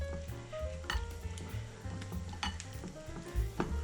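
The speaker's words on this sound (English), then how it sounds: "I've got a spatula. We're going to stir these around and coat them in that mixture" Tofu pieces stirred with a spatula in a sizzling pan to coat them in a sauce mixture, quiet steady frying hiss with repeated spatula scrapes and light clinks on the pan, close and without talk.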